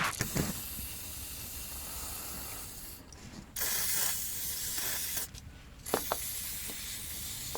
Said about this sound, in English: now let's hit it with some more lubricating fluid